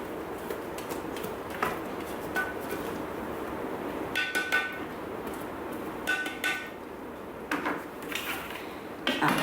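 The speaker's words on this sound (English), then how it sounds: "And now scrape down the bowl." A spatula scraping down the bowl of a Thermomix while making mango chutney, a few short clinks and scrapes over a low hum of background noise, close by and without talk.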